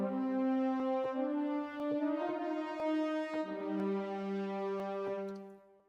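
Sampled brass from the free Orchestra 2 library by Project Sam plays sustained chords, shifting every second or so, with a soft clicking attack on each change and nobody talking.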